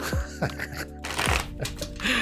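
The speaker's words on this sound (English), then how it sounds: "They want me to randomly shuffle these." Tarot cards shuffled by hand at close range, a series of crisp riffling and flicking bursts with brief pauses between them, a voice faintly present at times.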